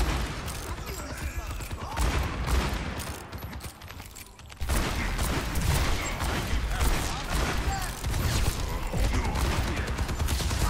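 Rapid gunfire bursts from the cowboy hero in the Overwatch 2 video game, dense and loud throughout, briefly dropping away near the middle before resuming as layered combat effects and shots.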